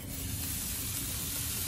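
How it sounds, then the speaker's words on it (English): A continuous, even hiss of barbecue chicken sizzling on a hot grill, steady and moderately loud with no talking. "if you hear that sizzle, that's the way to do it"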